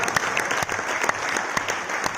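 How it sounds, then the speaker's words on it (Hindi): Loud, dense applause from an audience honouring a company's R&D team at a product presentation, a steady wash of many hands clapping without a break. "तो एक बार जोरदार तालियां हमारे R&D टीम के लिए"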